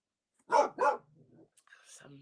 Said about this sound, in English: he's barking with delight